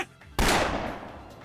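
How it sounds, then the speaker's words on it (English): A single gunshot in the video game Baldr Sky, one sharp loud crack followed by a long fading echo, heard alone. "Suddenly, I hear a gunshot ahead."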